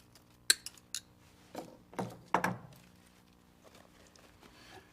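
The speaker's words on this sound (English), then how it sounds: "we use our trusty Nip-X and just trim off all of those stems" Nip-X cutters snip flower stems off a bush in a few sharp, close clicks, followed by softer rustling and handling noises, with quiet moments between cuts.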